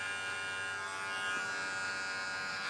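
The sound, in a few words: electric hair clippers buzzing during a haircut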